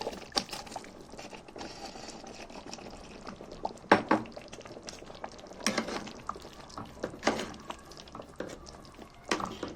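Pieces of beef tripe go into a simmering tomato sauce in a pot, with scattered wet splashes, clinks and stirring scrapes over a soft bubbling background, close and moderate in level.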